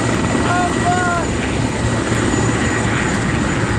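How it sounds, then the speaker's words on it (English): A helicopter flies low over treetops, its rotor and engine roar loud and continuous from close by, with a few faint tonal whistles early on. "When I saw the helicopter very close to the trees, to the top of the trees"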